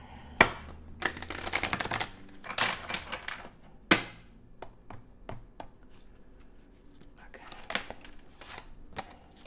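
A deck of oracle cards shuffled by hand up close, with sharp slaps and short riffling bursts at uneven intervals, softer flicks trailing off toward the end.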